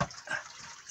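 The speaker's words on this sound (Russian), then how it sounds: "Из этой пещеры вытекает вода." Clean water flowing out of a cave in the Dolgorukovsky massif makes a steady, soft, hissing wash with a small burst at the start. It is fairly faint and close by, with no talk.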